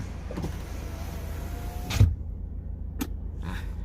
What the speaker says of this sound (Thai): เดี๋ยวเปิดกระจกให้ดูหน่อย